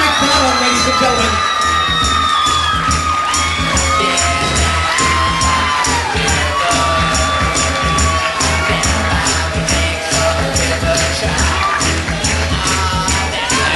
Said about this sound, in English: Applause going for Mr. and Mrs. Sean McDonald, ladies and gentlemen.